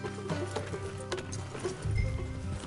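Horse hooves clip-clopping at a walking pace in a Red Dead Redemption 2 game scene, close rhythmic steps with a brief snort, fairly quiet and without speech.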